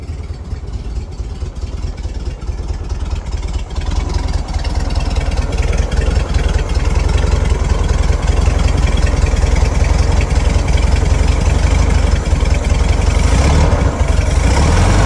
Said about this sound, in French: Un moteur froid.